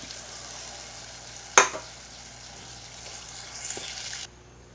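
Tamarind water is poured into a sizzling sardine curry masala in a pan. A steady frying hiss carries throughout, broken by one sharp splashing burst partway in. The sizzle then settles and cuts off abruptly near the end.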